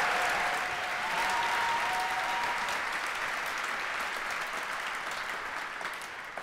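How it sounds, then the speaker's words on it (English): A large graduation audience at a city high school ceremony applauds, a dense, steady wash of clapping that holds loud for about six seconds before slowly easing, with a faint whistle-like tone drifting through early on. "I gotta get a round of applause for that too"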